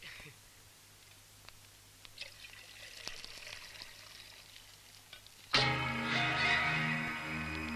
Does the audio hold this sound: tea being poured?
yes